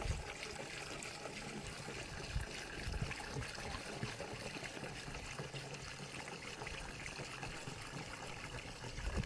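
Water trickling and splashing from plumbing, a steady close wet patter with small irregular spurts, running continuously and alone without any talk.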